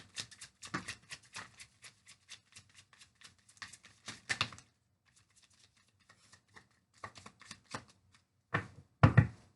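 Tarot cards being shuffled close up in quick riffles and soft slaps, bursts of papery flutter separated by short pauses, with louder handling at the end.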